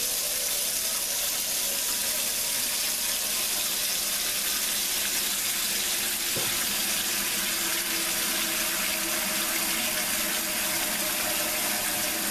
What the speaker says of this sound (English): we're going to put about 4 or 5 inches of water in here.